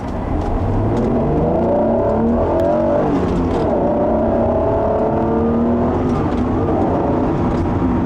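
A 1992 Acura NSX with a 3.0-liter VTEC V6 drives hard, its engine note rising and falling through the gears in steady sweeps, loud and close, with constant road and wind roar and no talking.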